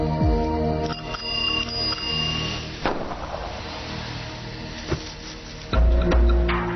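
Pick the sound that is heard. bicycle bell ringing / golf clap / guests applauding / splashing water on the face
bicycle bell ringing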